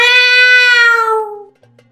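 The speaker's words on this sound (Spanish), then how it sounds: "Sonaba lastimero, como el de un gatito herido" A single drawn-out, plaintive meow like a wounded kitten, loud and close, holding its pitch before sliding down and fading away into near silence.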